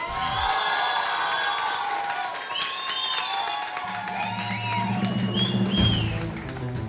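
Crowd at a Drag Canarias-themed drag pageant roars for a contestant, with loud whoops, shrill shouts and sustained clapping layered together, steady and close, and a low hum rising under the cheering in the second half.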